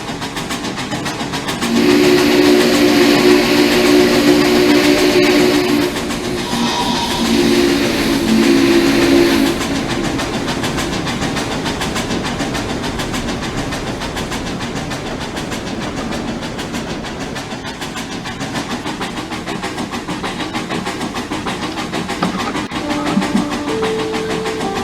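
Two steam locomotives, A&WP 290 and BM&R 425, haul a train through heavy snow in Trainz Railroad Simulator 2019, sounding long loud whistle blasts early on over a steady chugging rail rumble that carries on alone.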